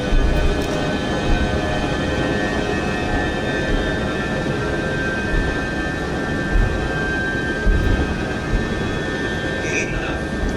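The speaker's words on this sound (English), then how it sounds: "Set takeoff thrust." Boeing 707 engines at takeoff thrust in a flight simulator, a steady loud roar with a high whine running throughout and a few brief bumps, under occasional faint cockpit voices.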